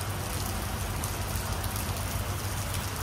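Rain pours down on a road in Chandigarh during a pre-wedding shoot, a constant broadband wash of falling water with a low rumble underneath and no talking.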